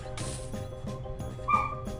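A dog yips and barks in short, repeated bursts at a moderate distance, several sharp yelps coming in an uneven rhythm over faint background noise, with one higher whine near the end.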